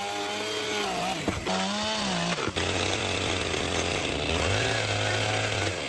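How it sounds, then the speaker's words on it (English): Chainsaw cutting through the ends of round logs sticking out past a primitive forest shelter's roof edge, a loud, close, continuous engine snarl whose pitch dips and rises as the chain bites into the wood. "extra round logs extending from the roof edge are being precisely cut off with a chainsaw"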